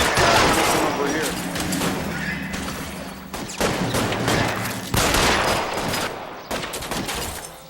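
Bursts of gunfire fill a shootout in the video game L.A. Noire, repeated loud volleys and rapid shots in uneven clusters with booming impacts, voices shouting over the fighting.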